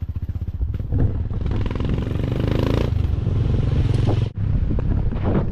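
An enduro motorcycle engine revs and runs loudly up close on a rough ride, its throbbing drone rising and falling with a brief cut near the end, mixed with clattering.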